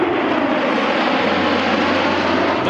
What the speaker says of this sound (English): most expensive jets and airplanes in the world, right here in Cleveland this weekend